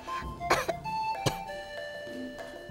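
A child coughs a few times in short separate bursts against a quiet background with faint tonal sounds, set in an animated cartoon.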